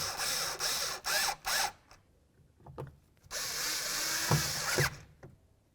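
Power driver running Phillips head screws into a door lock actuator on a 2002-2006 Honda CR-V door: short whirring bursts, then a pause with light clicks and handling, followed by a longer run that ends as the screw snugs down.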